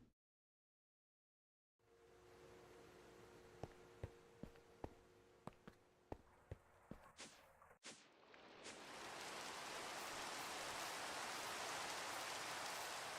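Rain in the Minecraft modpack GregTech New Horizons: after a silent start and a run of sharp clicks, a steady hiss of rainfall swells in and continues loudly to the end.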